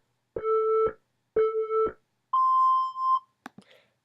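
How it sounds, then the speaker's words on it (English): An answering machine gives two short two-tone beeps, then a single longer steady tone lasting nearly a second, followed by a couple of faint clicks. "I don't want that long of a beep"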